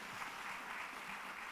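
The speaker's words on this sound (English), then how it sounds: "Another round of applause, please," Conference audience applause at a data festival, a brief dense wash of clapping with no voices over it.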